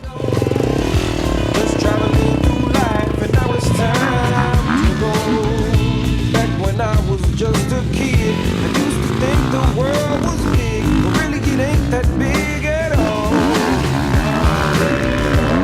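A motocross motorcycle is test-ridden over a dirt track with bumps and a tabletop jump. Its engine snarls and revs hard without pause, close and loud, as the throttle rises and falls.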